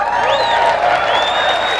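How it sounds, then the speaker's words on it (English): Large audience at a business convention cheering loudly, a dense crowd roar with whoops and rising voices, some clapping mixed in, sustained for the whole short span. "I'm glad to hear you cheering about that."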